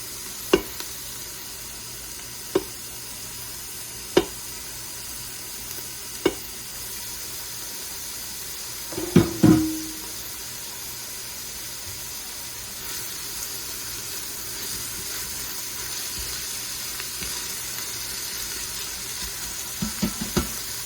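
Carrots, basil, bay leaf and garlic sizzle softly and steadily in a pot for pork ragu, broken by regular spoon taps against the pot and a louder scraping stir midway, with no voices.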